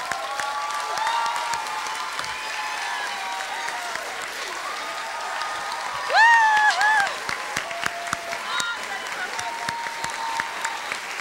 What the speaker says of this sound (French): Donc, on aimerait ça donner une chaleureuse main d'applaudissement à Ève Lafontaine.